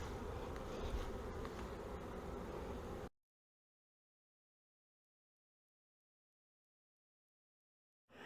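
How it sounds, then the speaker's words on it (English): Honey bees swarm and buzz steadily during a hive cutout from a front porch column, a dense close drone for about three seconds before the sound drops to silence, with buzzing returning briefly at the end. "There, we got bees going in the entrance, but we got some heading back towards the box."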